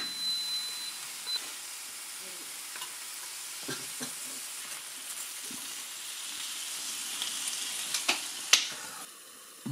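A Tefal WM756D12 rotary waffle maker cooks batter at 300 degrees, giving off a steady soft sizzle with occasional small clicks and ticks close by.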